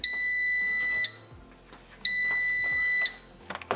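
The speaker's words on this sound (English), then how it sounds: "We have the final beep." An air fryer cooking a frozen Cornish hen gives its finishing signal: two long electronic beeps about a second each, separated by a pause, heard close up with faint background noise.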